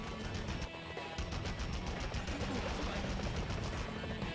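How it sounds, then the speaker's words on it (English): Police gunfire in the original Spider-Man video game, a dense, steady barrage of rapid shots crackling close and loud for several seconds with no talk over it. "I'm getting shot by police."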